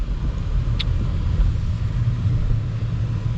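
A 2025 Mercedes S63 cruises on the road, heard as a steady low rumble of engine and tire noise from inside the cabin, smooth and constant with one faint brief tick.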